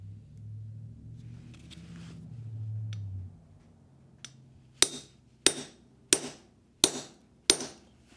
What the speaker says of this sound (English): Use my hammer, and I'm just gonna create the tension on it.